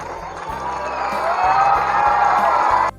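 A school crowd cheers and claps for a student at an Independence Day celebration, a dense, loud wash of voices and applause that swells and holds steady before cutting off abruptly.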